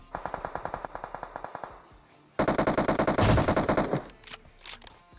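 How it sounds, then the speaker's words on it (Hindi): Automatic gunfire from the video game PUBG Mobile: a rhythmic burst of evenly spaced shots, a short pause, then a louder, denser volley. The shooting trails off near the end, with no voices. "वो लोग आगे गोली गोली चला रहे हैं"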